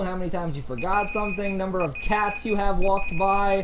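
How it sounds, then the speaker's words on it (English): A timer beeping as a steady high electronic tone that runs in repeated stretches under continuous close talking. "That's the timer."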